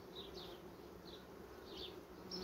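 A dense mass of honeybees spread across the hive frames during swarming fever, giving a steady, close insect buzz with faint higher whines drifting through, unbroken and without voices.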